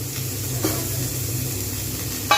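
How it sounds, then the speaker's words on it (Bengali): Chopped cauliflower and winter vegetables fry lightly in a pan, with a close, steady sizzle and hiss and a couple of brief stirring clatters over a short stretch. "হালকা করে ভেজে নেব"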